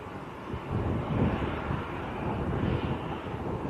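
A Lufthansa A320neo airliner lines up on the runway at Manchester Airport, heard as a distant, steady jet engine rumble mixed with wind buffeting the microphone, with no voices.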